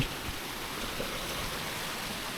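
A small stream of water flows at Wang Bo waterfall near Khao I-To, a soft, steady rushing hiss with no voices, fairly faint and continuous.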